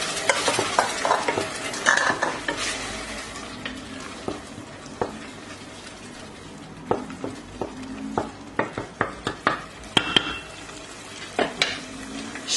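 Tomatoes go into a pan of sautéing vegetables for a meatless green bean dish and are stirred, producing a soft sizzle under repeated sharp scrapes and taps of a utensil against the pan.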